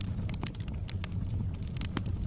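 A piece of paper burns with a steady flurry of sharp crackles and pops over a low rumbling hiss, close and continuous.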